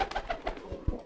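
Soft, low cooing of a homing pigeon at its home loft, a few murmured coos close by over a faint background hum.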